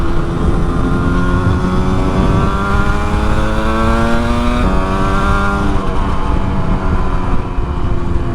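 A 1981 Yamaha RD350 LC two-stroke motorcycle is ridden at a steady, loud buzz, its engine note climbing gradually through the gears with a brief dip near the end, heard close up without talk.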